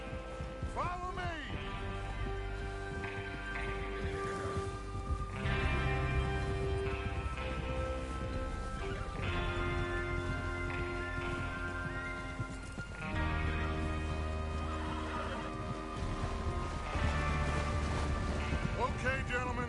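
Horses clip-clop along with occasional neighs amid a busy Red Dead Redemption 2 game soundscape, with music and voices running over the hoofbeats.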